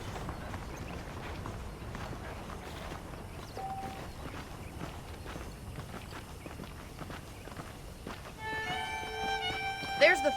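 Horse hooves clip-clop at a steady walking rhythm in the Western video game Red Dead Redemption. The close, moderate hoofbeats continue throughout, and brief tonal game sounds enter near the end.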